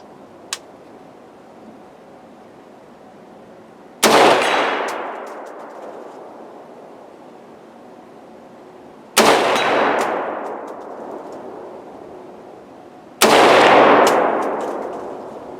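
Three loud, sharp rifle shots from a 7.62x39 AR-15 crack out a few seconds apart, each followed by a long ringing decay, with no talking.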